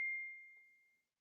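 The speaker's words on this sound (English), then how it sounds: "My phone's pinging." Mobile phone notification ping, a single clear bell-like tone that rings out and decays smoothly over about a second, alone in otherwise quiet surroundings.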